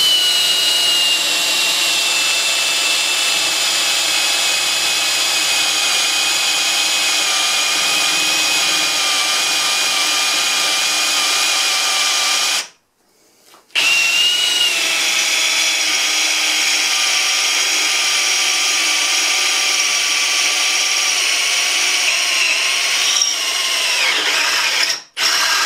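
An 18V ToolPRO hammer drill in second gear drives a 10mm bit through 5mm mild steel, a steady loud whine with a short break midway and a brief catch near the end.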